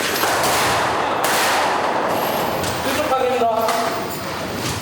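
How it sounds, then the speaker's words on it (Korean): Gunfire crackles through a military combat training exercise as troops close in on a building, bursts of shots piling up densely over several seconds, loud and reverberant, with a short clinking rattle near the end. "총격을 가하며 서서히 포위합니다."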